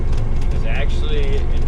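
A combine harvester fitted with rice tires drives down a road, giving a steady, loud engine and road rumble with constant vibration and rattle noise throughout.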